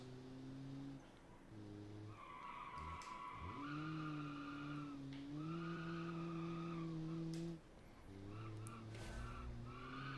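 Low-revving car engine in the BeamNG racing game, a steady droning hum with stacked harmonic bands that shift pitch as it changes gear, broken by brief dips, with tire skidding noise near the end.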